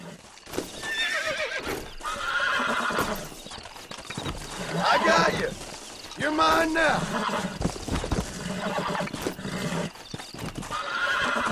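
Horse in Red Dead Redemption neighing and whinnying repeatedly, with clip-clopping hooves throughout, loud and close, as someone talks to it in between.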